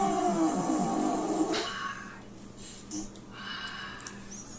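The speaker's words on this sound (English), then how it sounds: "Here comes a spicy fart." A spicy fart sound effect played by an Alexa smart speaker: a loud, rough, sputtering burst with a breathy, snorting texture for about a second and a half, followed by quieter hissy room noise.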